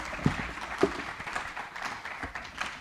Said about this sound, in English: Let's give them a really, really big round of applause.